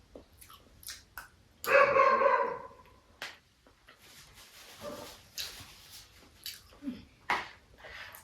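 A dog barks at night, one louder burst followed by fainter scattered yaps and sounds at a distance, with quiet stretches between.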